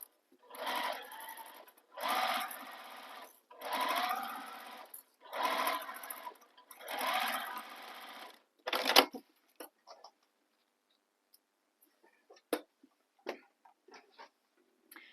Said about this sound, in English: we're going to sew this with the seam allowance given in the pattern. So sew all the way across